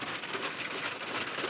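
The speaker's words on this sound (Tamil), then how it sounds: "இந்த மழை பார்க்குறது மாதிரியே ரொம்ப இன்ட்ரெஸ்டிங்கானது அதோட சத்தம் கேட்குறது" Afternoon rain pours steadily, a dense, even hiss of drops on surfaces that fills the space with no breaks and no voices.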